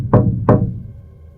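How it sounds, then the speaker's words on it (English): Two sharp, hollow knocks strike a bedroom door about a third of a second apart, loud and close, each ringing briefly before fading into quiet. "3 sharp raps echoed through the room"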